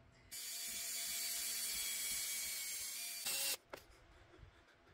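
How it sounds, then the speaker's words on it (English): A drill boring into a metal exhaust extension pipe for a gauge fitting on a 719 cc Kubota diesel, a loud continuous high whine for about three seconds, then a brief rise in pitch and a few scraping taps as it stops. "Let's go ahead and drill and tap it for the exhaust back pressure gauge."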